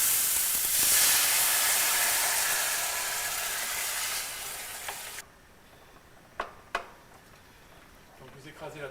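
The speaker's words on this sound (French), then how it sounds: "je rajoute de l'eau" Water poured into a hot pan of anchovy pignate sets off a loud, close sizzle and hiss that fades after about five seconds, leaving quiet clinks and a few utensil taps.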